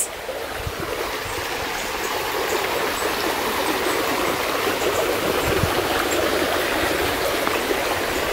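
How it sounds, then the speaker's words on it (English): A stream runs beside a countryside bridge in the Yorkshire Dales, a steady, loud, full rush of flowing water holding constant throughout with no voices over it. "I think just the sound of running water is just so peaceful"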